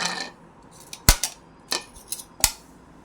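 Grapes dropped into a fruit salad bowl, a few sharp clinking taps and soft thuds spaced irregularly, close and fairly quiet with no talking.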